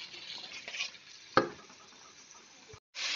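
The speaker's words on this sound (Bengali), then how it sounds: "পেঁয়াজগুলো ভালো করে কষাতে হবে" Onions being stirred and fried in spice paste for a Bengali-style egg curry: a low steady sizzle with soft scraping stirs and one sharp knock of the spoon against the pan, close and moderately loud.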